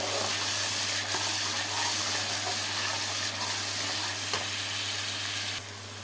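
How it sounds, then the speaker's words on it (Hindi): Fish masala with slit green chilies frying steadily in a pan, a close, continuous sizzle and hiss with small crackles throughout, no talk. "तो इसको भून लेते हैं इसके अंदर।"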